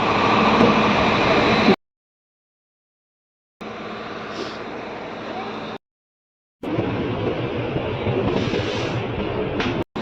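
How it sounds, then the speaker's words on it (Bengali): A train pulls into a station in Denmark as a passenger boards, heard as steady loud mechanical rumble and hiss in three separate stretches broken by sudden silent gaps. "ট্রেনটা অলরেডি চলে আসছে এটা চল দুই মিনিট আগে চলে আসছে আর কি তো আমি এখন ঢুকবো ট্রেনে"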